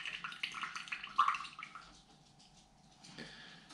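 Water being poured off from a small container of soaking bonsai seeds from an Urban Sprout kit, a close trickling and dripping stream that tapers off, with a brief splash near the end.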